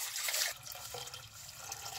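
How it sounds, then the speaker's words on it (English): Water runs from a tap into a deep cooking pot set on high heat for pasta, a close gushing splash that is loudest at first and then settles into a steady, softer filling sound. "add water"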